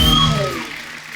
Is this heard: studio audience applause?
yes